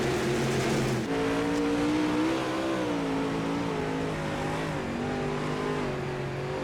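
Dirt track race cars at Oswego accelerate out of turn 4, a loud, steady engine roar with rising and wavering pitch as the throttle opens, several motors blending in a continuous drone.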